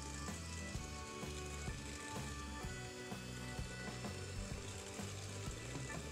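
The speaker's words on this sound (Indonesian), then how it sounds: "Kemudian ini kita mixer dengan kecepatan rendah." An electric mixer running at low speed beats eggs and sugar for a steamed brownie batter, giving a steady mechanical whir with a rhythmic rattling pulse throughout, close and continuous with no talk.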